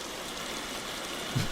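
Rain falling in the film 28 Days Later, a steady soft wash of drops with a faint low thump near the end.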